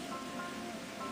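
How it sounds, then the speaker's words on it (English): A small creek flows just behind a dry, little-used trail campsite in the Canadian Rockies, giving a steady, close, even wash of water with no breaks and no talking. "There's a creek just behind me"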